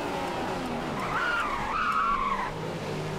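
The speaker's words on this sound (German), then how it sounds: "Auf dem Monitor können wir sehen, dass du deine Hinterräder blockierst." A 2015 Formula 1 car in F1 2015 locks its rear wheels under braking at the Hungarian Grand Prix in Budapest, letting out a rising, wavering tyre squeal for over a second above the steady engine drone.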